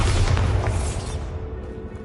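Bombarda explosion spell going off in a video game: one loud, close, booming blast with a thick low rumble that decays over about a second into a fading roar.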